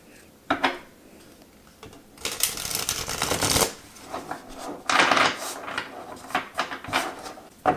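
Matte tarot cards from the Spacious Tarot deck are shuffled close up, giving dry riffling and slapping bursts, with a long flurry and several shorter sharp riffles and taps in between.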